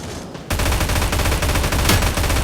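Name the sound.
gunfire in NEW STATE Mobile video game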